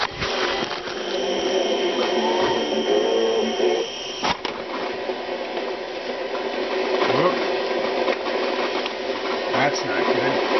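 An 8-track player chews up a tape with a continuous mechanical whirring and grinding, close and moderately loud, broken by a sharp clunk partway through and a few faint clicks.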